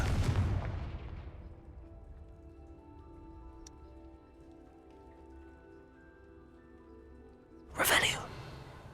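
A Confringo fire spell in Hogwarts Legacy bursts with a sharp booming blast that rings out and slowly fades, followed several seconds later by a second loud, shorter explosive burst.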